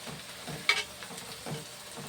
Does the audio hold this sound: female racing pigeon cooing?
no